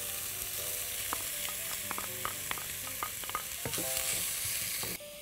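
An onion fries and sizzles in a pan for chicken soup, a steady hiss under scattered stirring clicks and scrapes, close and continuous, before the sizzle drops off abruptly near the end.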